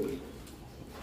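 Racing pigeons in a loft give a short, close coo at the very start, then fall quiet under low background hum.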